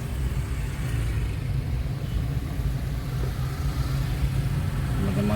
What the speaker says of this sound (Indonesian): Teman-teman lihat sendiri gimana macetnya, banyak pengendara sepeda motor.